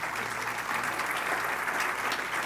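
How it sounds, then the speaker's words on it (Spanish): A church congregation claps together in a dense, steady burst of applause that fills the whole moment, fairly close and even in loudness. "Y le debe dar un aplauso al Señor."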